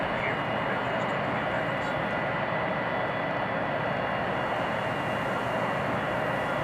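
Steady airplane engine drone from a flight video game, a continuous loud broadband roar that holds unchanged without breaks.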